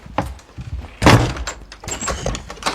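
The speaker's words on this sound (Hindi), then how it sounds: "अर्शी दरवाजा खोल।" Hard thumps and bangs against a closed door, a loud burst of pounding near the middle with scattered knocks before and after, close by and forceful.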